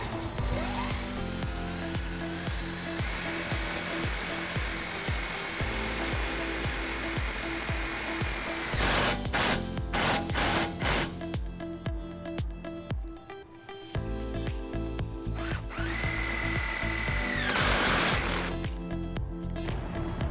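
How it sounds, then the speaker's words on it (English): A power drill drives self-tapping screws into a hitch wiring bracket on a 2008 GMC Canyon, a long steady whine with pitch changes as screws seat, then brief pauses and another whirring run. "We'll be using the provided self-tapping screws that come with the kit."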